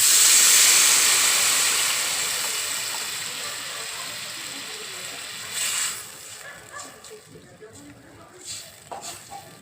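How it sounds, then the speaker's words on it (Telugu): Tamarind juice poured into a hot pan of pakodi tomato stew sets off a loud burst of steamy sizzling hiss that fades over several seconds into a gentle simmer, with a few clinks near the end. "చింతపండు పులుసు వేస్తున్నాను సార్."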